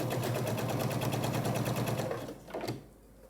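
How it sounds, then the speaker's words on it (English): A sewing machine stitches a quilt seam steadily at speed with a rapid mechanical rhythm, then slows and stops after a couple of seconds. "I'll take it to the sewing machine and I'll sew a 1/4 inch seam allowance"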